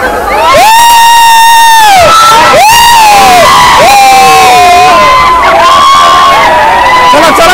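A large crowd of young people at Amboli waterfall on a rainy ghat road cheers and shouts, with loud, close, overlapping whoops and long wavering yells rising and falling continuously.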